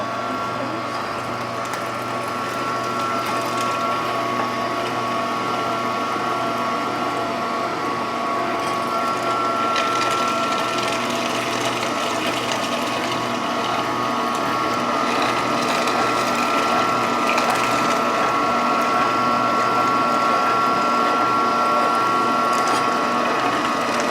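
A hand-cranked manual juicer grinds greens and carrots in a continuous ratcheting churn that holds steady and close for the whole stretch, with no talking over it.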